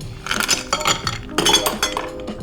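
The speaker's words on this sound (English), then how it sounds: "So we're gonna add ice." Ice cubes drop into a drinking glass for an Absolut lime cocktail, making a run of bright clinks and rattles in two clusters, close and clear, with no talk.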